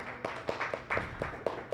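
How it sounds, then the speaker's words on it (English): A symposium audience applauds after a talk, a thin, brief patter of a few people clapping at a distance, fairly quiet and uneven. "Please applause to Pak Yayan for the talk."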